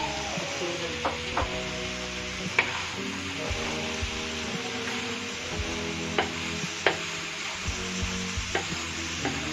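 Potatoes tossed into a pan of frying cluster beans, steady sizzling with clinks and scrapes of stirring, and a voice speaking faintly at moments.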